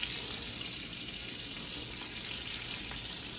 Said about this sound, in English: So, nice hot pan. That butter's going to brown really nicely.